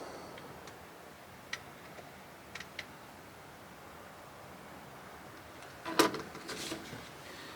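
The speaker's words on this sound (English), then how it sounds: "Let's go down a couple of clicks." Adjustment turret on a Holosun EPS red dot sight clicks a few times, faint sharp ticks over a steady background hiss, followed by a louder handling rustle.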